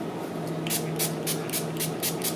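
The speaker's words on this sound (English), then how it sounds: "So I'm going to give it a spray with rubbing alcohol." A series of short, crisp spray bursts of rubbing alcohol from a spray bottle onto melt-and-pour soap, about seven quick pumps in a steady rhythm, close up over a faint background hum.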